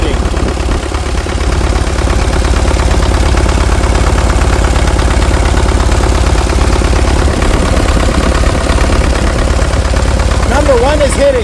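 Engine of an International TD-6 crawler running with its number 4 cylinder misfiring, a steady loud idle with a rough, uneven beat that continues throughout, close to the machine.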